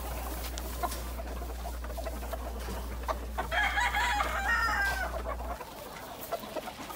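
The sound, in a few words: chickens and gamecocks clucking and crowing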